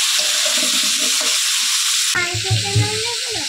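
Potatoes frying in oil in a home kitchen pan, a steady broadband sizzle that swells louder and busier halfway through as the pieces shift, close and continuous with no talk.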